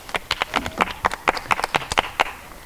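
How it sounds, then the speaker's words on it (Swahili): A small group clapping, a run of sharp, irregular handclaps close by for a couple of seconds, loud and without any voices. "Haya makofi."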